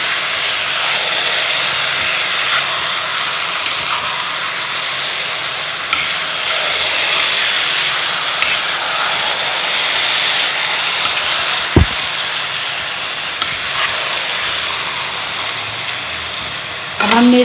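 Rice for zarda sweet rice being stirred through sugar syrup in a pot over low heat, a steady soft scraping and bubbling hiss that runs continuously, with one sharp click partway through.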